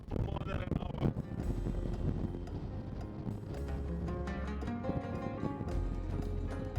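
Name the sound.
strong wind on the Pamir Highway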